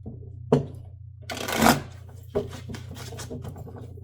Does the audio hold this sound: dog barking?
no